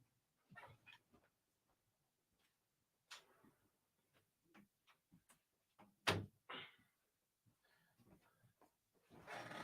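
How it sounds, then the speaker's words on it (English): Someone closes a room door: soft shuffles and small knocks, then one sharp thud as the door shuts near the middle, followed by light rustling, faint and close in a quiet indoor space. "Gotta close the door."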